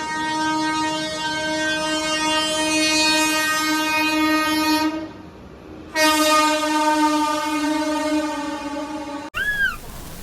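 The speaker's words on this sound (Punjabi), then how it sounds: "ਟ੍ਰੇਨ ਵੀ ਚੱਲਣ ਲੱਗੀ ਆ" A passenger train pulls out of Dabra railway station, sounding two long, loud horn blasts close by over a steady rolling rumble, with a brief pause between them.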